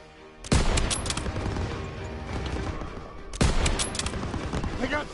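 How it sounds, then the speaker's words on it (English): Machine gun fire in the World War II video game Call of Duty WWII, with two loud bursts of rapid automatic fire about three seconds apart over continuous battle noise. "Daniels, hit that MG"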